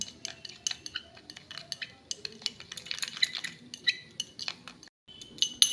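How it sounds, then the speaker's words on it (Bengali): A spoon stirs a homemade eggshell cleaning liquid mixed with vinegar or lemon juice, giving irregular metallic clinks and taps against the container, fairly close and quiet, with brief pauses. "এবার এটাকে ভালো করে মিশিয়ে নিচ্ছি"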